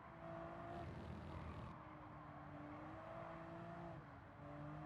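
Engine note of a TVR Tuscan in Gran Turismo 7, a steady droning car sound that rises and shifts in pitch, fairly quiet and continuous throughout.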